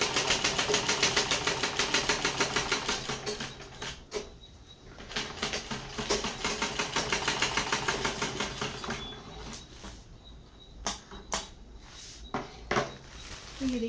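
A sewing machine stitches through a polythene bag, its needle chattering in a fast steady run that slows and breaks into short bursts and clicks near the end, close up.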